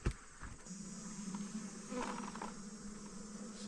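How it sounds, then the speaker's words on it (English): A honeybee swarm hums throughout, a dense droning buzz with a constant pitch, fairly close and continuous without any talk. "There is a swarm of honeybees."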